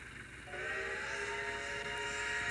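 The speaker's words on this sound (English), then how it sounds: "All in all, a really nice locomotive." Locomotive whistle on a Maine heritage railway, a sustained tonal blast that starts about half a second in and holds loud and steady to the end, with no talk over it.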